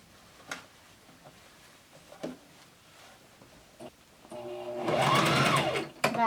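After a few quiet handling clicks, a sewing machine runs up to speed stitching a cloth face mask, a close, loud whirring hum lasting about two seconds before cutting off for a reverse stitch.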